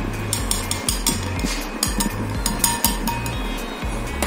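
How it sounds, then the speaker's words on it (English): Almonds and cashews are added to an oats and banana smoothie in a blender, with a rhythmic chunking and clinking of hard nuts being churned, loud and close, with repeating low thumps. "Now that that's done, we're going to add almonds and cashews."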